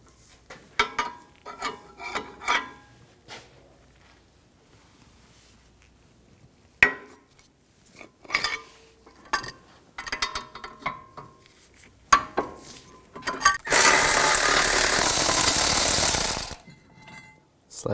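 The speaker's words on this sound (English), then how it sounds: "Use a 21mm socket." A socket wrench on a 21mm socket loosens the brake caliper bracket bolts on a 2004-2009 Audi A4 Quattro: bursts of close ratcheting clicks with pauses between them, then a few seconds of loud continuous grinding.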